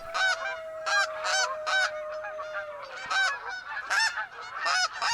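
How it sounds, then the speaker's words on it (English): Snow geese in theHunter: Call of the Wild at Askiy Ridge give repeated loud honks in rhythmic bursts, several birds calling close together with a steady faint tone underneath. "we've got snow geese coming in"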